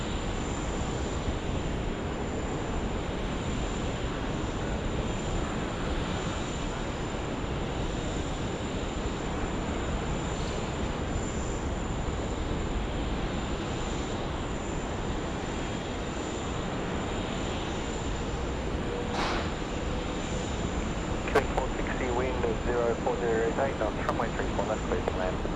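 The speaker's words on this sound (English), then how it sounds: "just arrived, it's the China Southern A330. Just vacating the 34 left active runway to the left now on taxiway Golf" A China Southern Airbus A330 taxiing at Sydney Airport, a steady distant jet engine drone that holds throughout, with faint voices and radio chatter over it.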